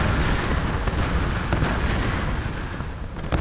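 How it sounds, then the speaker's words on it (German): Explosions in the Tomb Raider video game produce a loud, sustained roar of rumbling blasts and crackling debris that fills the whole stretch without talk. "Die Explosionen sollten hinter uns sein, nicht vor uns."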